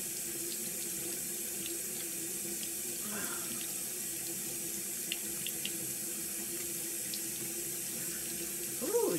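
Tap water runs steadily into a bathroom sink during a morning face wash, a constant close splashing stream with a few faint clinks and a brief rustle near the end.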